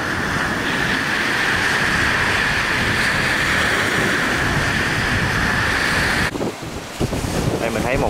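Rough sea and strong wind roar continuously during a storm at sea, with heavy wind buffeting close to the microphone as a ship pitches through head-on waves, briefly dropping near the end before the rushing noise returns.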